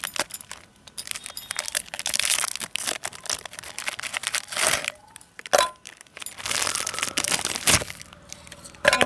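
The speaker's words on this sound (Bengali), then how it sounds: "এবার এই বিস্কিটটাকে গুঁড়ো করে নেব।" Two Happy Happy biscuits are crushed in a mixer jar, producing loud, irregular bursts of crunching, rattling and cracking with short pauses in between, close up and with no voices.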